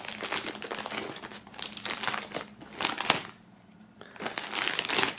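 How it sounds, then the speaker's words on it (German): Plastic wrapping is crinkled and torn off the items of a rapper's box set in steady bursts of close crackling, with a short lull before the rustling resumes. "Wir werden mal ganz kurz das ganze Plastik auf einmal wegmachen"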